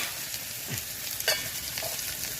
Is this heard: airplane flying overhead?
no